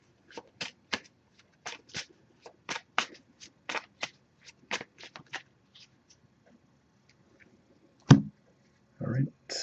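Brisk riffle-shuffling of tarot cards in several quick bursts, close by, followed by a couple of louder thumps as the deck is handled.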